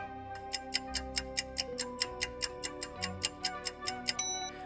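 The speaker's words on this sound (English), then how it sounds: "get locked up in a room with a ticking time bomb" A ticking time bomb clock sound effect gives a steady, crisp tick roughly every quarter second over a low sustained tone, ending with a brief high ring.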